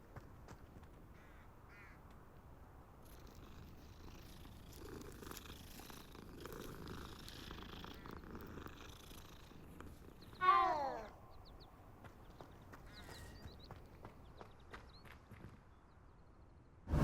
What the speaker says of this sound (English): What a cute cat.